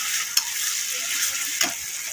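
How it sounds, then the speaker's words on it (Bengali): Ginger-garlic paste masala fries in a pan with a constant close sizzle, with two quick stirring scrapes standing out against the steady hiss. "মশলাটাকে ভালো করে কষিয়ে নেব।"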